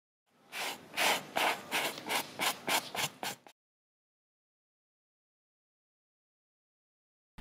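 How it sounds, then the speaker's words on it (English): A leather surface gently sanded by hand to lift a grease or oil stain: about nine rhythmic rubbing strokes, close and distinct, followed by silence. "stains and spots which have not been completely removed can be sanded down."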